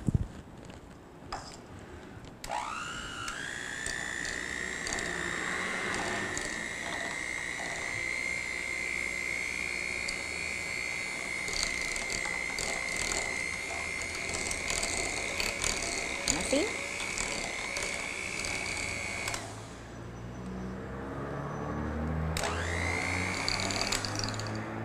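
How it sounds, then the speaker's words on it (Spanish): An electric hand mixer whirs at a steady pitch while blending dulce de leche with other dessert ingredients, a sustained motor drone with rattling clicks, starting and stopping near the end. "nos vamos a ayudar con una batidora hasta mezclar los tres ingredientes."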